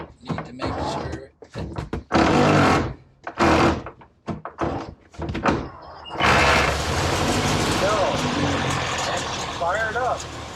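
An old car engine cranks in a series of rough, stuttering bursts with pauses between them, then catches and runs continuously with a loud, uneven rumble and a rising whine; people talk over parts of it.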